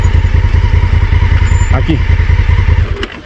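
A motorcycle engine rumbles and clatters close by while being ridden over rough, broken ground, with people talking over it and the engine easing off at the end.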